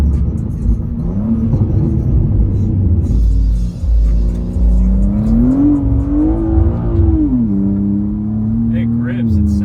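BMW M car engine revving while drifting on a wet road in the rain, a loud droning rumble that rises and falls in pitch with throttle changes, heard from inside the cabin under ongoing talk.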